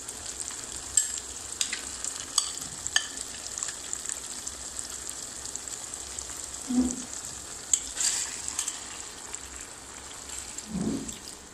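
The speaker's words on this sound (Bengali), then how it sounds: "মাংসগুলো আমরা এই মশলার মধ্যে কষিয়ে নেব" Beef pieces frying in spice masala with greens, a steady close sizzle with scattered stirring clinks and a couple of louder bursts, no voices.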